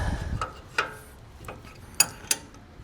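Adjustable wrench working a nut on a Ram CV axle, giving a few sharp metallic ratchet-like clicks and clanks spaced unevenly over a quiet background, close by.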